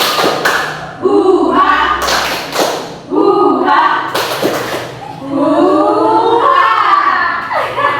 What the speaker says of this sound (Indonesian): Ya, ulang ya. Tepuk semangat.